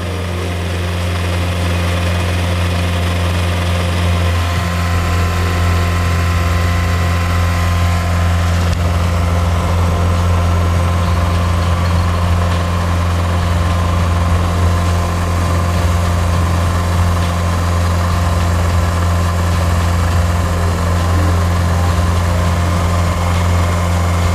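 A private car's engine running at a steady 2500 rpm on a laboratory emission-test rig: a loud, unbroken low drone with a constant hum and no pauses, heard alone and up close.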